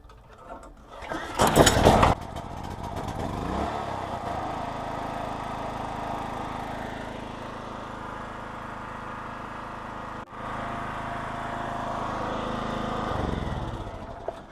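A Zegor 3/3.3 kW gas-petrol generator starts with a brief loud burst of cranking. Its engine then settles into a steady, close running drone that holds for more than ten seconds.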